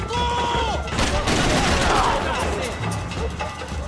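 Dense bursts of gunfire in a shooter video game ring out continuously and loudly, mixed with crashes and a voice talking over the shots.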